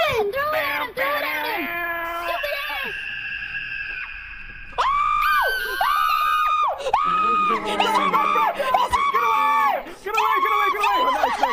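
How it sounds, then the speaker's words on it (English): Shrill, wavering screams and wails from a voice, loud and repeated in long bursts over a busy game soundtrack. "I heard him scream."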